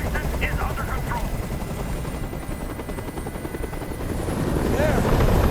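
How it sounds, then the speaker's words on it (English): Helicopter hovering in the video game Detroit: Become Human, a loud, steady rotor thump with engine drone that fills the whole scene, with voices speaking over it. "Tell that helicopter to get out of here."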